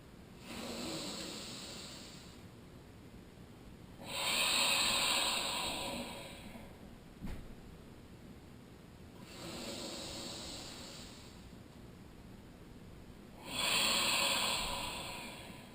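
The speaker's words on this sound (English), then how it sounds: "Equal length on the inhales and the exhales." Slow, even yogic breaths alternate between long airy inhales and exhales, each lasting a few seconds, close to the ear and soft, with no talking.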